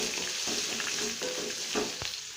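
Onions sauté in a pan with mustard seeds, fennel and cumin, giving a steady, close sizzle with soft stirring scrapes throughout.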